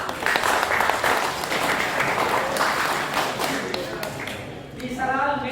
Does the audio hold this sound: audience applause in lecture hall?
yes